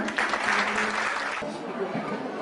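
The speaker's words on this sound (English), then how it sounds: "So can we have a round of applause for Dr. Iftikhar?" A room full of people at a book launch claps steadily, a dense even patter of applause that thins slightly toward the end.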